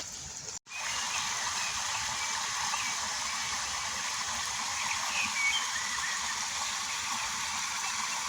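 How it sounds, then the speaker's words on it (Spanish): Overflowing river rushing in the rain, a steady, dense roar of flowing water that continues unbroken after a brief cut near the start. "el sonido del río, el sonido de los pájaros que están contentísimos"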